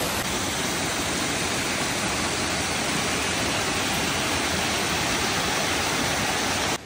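A waterfall roars as a loud, dense, unbroken rush of falling water, steady and close from start to finish, with no voices.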